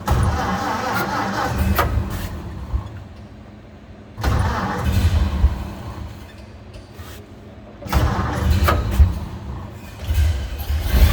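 A 1929 Ford Model A Coupe engine is cranked in three separate attempts, each a loud burst of churning engine noise followed by quieter pauses.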